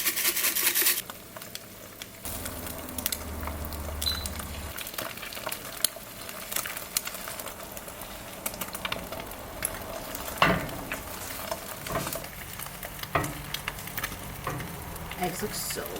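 Eggs fry in a pan with a continuous crackling sizzle, broken by scraping and stirring clatter and a few sharper knocks, steady at moderate loudness throughout.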